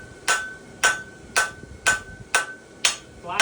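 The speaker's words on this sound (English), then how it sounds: "we're going to come over the edge of the anvil with our material, round side of the hammer, put it back into it" A hammer strikes a horseshoe over the edge of an anvil at a plain stamped front horseshoe forging session, seven sharp ringing blows at a steady rhythm about half a second apart, close and loud.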